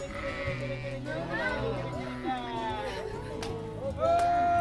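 Sheep bleat in a flock, several wavering calls overlapping one another and fairly close, over a steady background mixed with faint voices.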